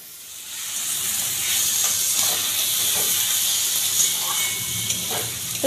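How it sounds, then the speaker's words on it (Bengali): Gobindobhog rice sautéing with spices in hot oil in a pan, giving a steady, continuous sizzle and hiss close by, with faint scraping from stirring. "চালটাও আমি একটু মশলার সঙ্গে কষিয়ে নেব।"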